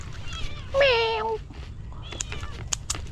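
A guard cat on a Philippine farm gives one clear, drawn-out meow up close, followed by faint scattered clicks and rustles over a low outdoor rumble.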